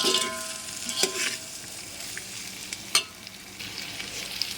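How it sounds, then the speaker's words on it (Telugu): Vegetables for a restaurant-style vegetable biryani frying in a pan, a steady soft sizzle with a few sharp clinks of stirring, close and alone with no talk. "ఈ కూరగాయలు ఇవన్నీ ఈ విధంగా ఫ్రై చేసుకోవాలండి."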